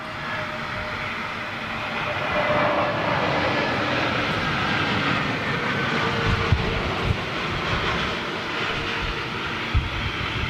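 An Airbus A320neo airliner passes at a distance, a steady broad jet roar holding at moderate level throughout with faint rumble underneath and no voices.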